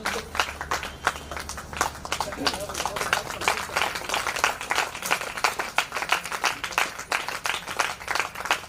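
Audience at a Shiv Mahapuran katha (Hindu religious discourse) clapping in sustained, dense applause with many overlapping hand claps, fairly loud and steady throughout.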